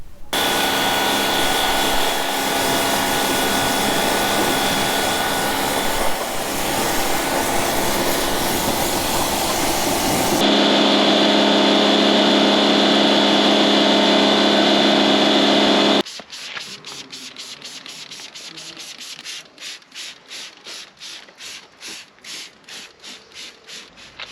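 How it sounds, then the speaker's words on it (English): A Can-Am X3 off-road vehicle being pre-wet with a water spray, heard as a loud continuous rushing hiss that changes tone midway and then breaks into rapid pulsing bursts. "So now we're just going to go and pre-wet the rest of the vehicle and see how we get on with it."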